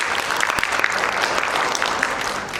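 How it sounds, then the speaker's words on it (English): Dense, steady applause from a poetry slam audience, a continuous wash of many hands clapping at once, fairly close and loud throughout. "let's just give them the round of applause that they deserve"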